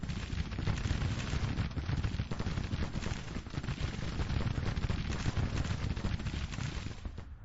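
Artillery and massed rifle fire in the Civil War strategy game Grand Tactician, a dense continuous rumble of booms and crackling volleys with no clear gaps.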